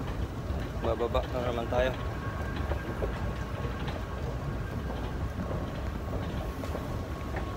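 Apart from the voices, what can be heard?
inside a Dubai metro station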